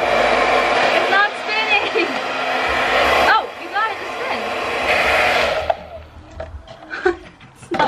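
A hair dryer blows steadily and loudly while hair is curled around a plastic water bottle, briefly under a voice, then cuts out near the end, leaving quieter handling noise.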